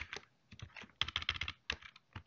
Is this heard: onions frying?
no